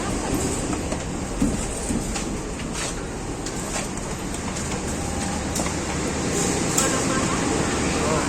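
Progo passenger train pulling into Lempuyangan station, a loud continuous rumble of rolling wheels and car clatter with intermittent clicks and squeaks, steady throughout at close range.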